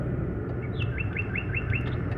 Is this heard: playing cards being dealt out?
no